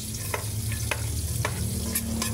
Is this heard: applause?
no